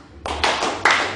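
A church congregation claps during a sermon: a few sharp, scattered hand claps close by, in quick bursts with no voices over them.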